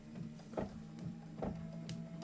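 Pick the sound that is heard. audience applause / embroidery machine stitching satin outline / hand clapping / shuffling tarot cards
embroidery machine stitching satin outline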